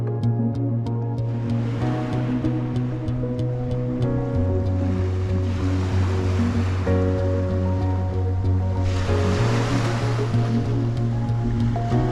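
Black Sea waves at Chornomorsk wash onto the shore in several swelling, hissing surges against a constant low tonal drone, moderately loud and unbroken by speech.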